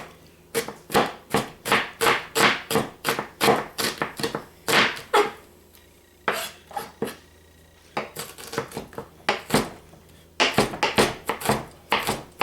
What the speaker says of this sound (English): It's also going to be chopped very, very fine.